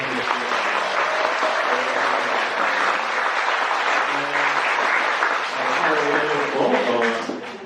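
A congregation claps for visiting tourists during an Easter Vigil Mass in a Catholic church in Jeju, with sustained, fairly loud applause over several seconds and voices mixed in.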